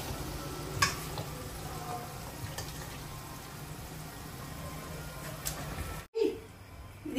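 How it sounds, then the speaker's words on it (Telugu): Marinated chicken for a chicken biryani hits a hot pot, giving a steady close sizzle and frying hiss with a few stirring clinks, then a sudden brief cut near the end. "సో మ్యారినేట్ చేసిన చికెన్ ఏదైతే ఉందో ఇప్పుడు ఇందులో వేసేద్దాము"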